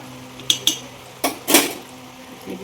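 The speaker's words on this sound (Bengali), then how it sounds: "এখন কড়াই থেকে আমি নামিয়ে নেব" Cooked potol posto is taken out of a wok: several sharp metal clinks and scrapes of a spoon against the pan, spaced irregularly over a few seconds, close and clear with no talking.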